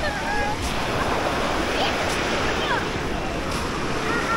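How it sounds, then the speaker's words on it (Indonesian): Surf rolling in at Padang-Padang beach in Bali, a steady broad wash of breaking waves with wind noise and faint beach voices in the background. "beginilah untuk suasana di pantai Padang-Padang"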